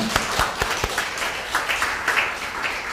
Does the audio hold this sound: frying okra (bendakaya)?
no